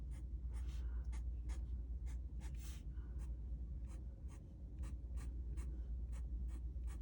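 Pen or pencil drawing short dash-like strokes on paper for a New York City skyline sketch, a rapid, regular series of faint scratchy ticks heard close up against a low background hum, no talking.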